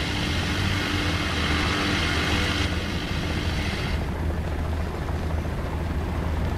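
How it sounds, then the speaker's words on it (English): An unfriendly helicopter in the War Thunder video game, heard as a steady, continuous low rotor and engine drone with broadband wash, loud and unbroken throughout with no talk. "Not a friendly helicopter coming."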